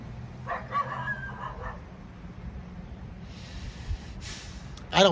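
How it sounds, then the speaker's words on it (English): Two dogs bark off in the distance outdoors, faint scattered yips and barks in the first seconds and again later, with a voice rising briefly near the end. "If y'all could hear them two dogs over yonder."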